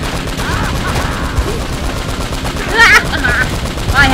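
Sustained gunfire rattles through a firefight in Uncharted: Drake's Fortune, with steady shots under a continuous battle din and brief sharp sounds cutting through near the end.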